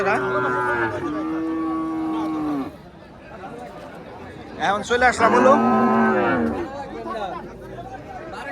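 Two long, loud cattle moos close by, one after another, with crowd chatter and talking in the background of a busy open-air cattle market.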